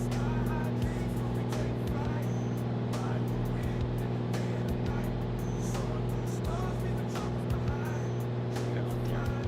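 A light aircraft's piston engine runs at 2,500 RPM in cruise flight along the Baja coastline, a steady close drone with strong low hum, while voices talk over it on the intercom.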